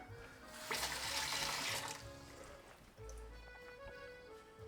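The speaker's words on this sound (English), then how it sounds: "Let me just rinse this parsley off my hand." A kitchen tap runs steadily while parsley is rinsed off a hand, the water splashing close by and briefly changing as the hand moves under the stream.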